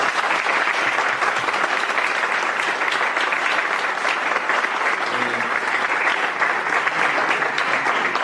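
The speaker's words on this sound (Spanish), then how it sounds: "quiero que les demos como respuesta un gran aplauso por su aporte y su acompañamiento a" Sustained audience applause at a conference discussion on constitutional procedural law, a dense steady clapping from many hands that stays loud and even from start to finish with no pause.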